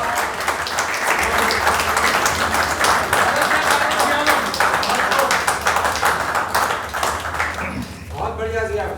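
An audience at a poetry gathering claps to welcome a poet, a loud sustained round of applause that fades out near the end as a voice begins to speak.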